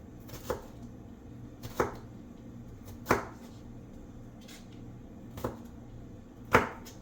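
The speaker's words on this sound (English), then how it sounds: "we're just gonna cut a little bit of green pepper up" A knife chops green bell pepper on a cutting board in five sharp, evenly spaced strikes, close and distinct over a quiet kitchen background.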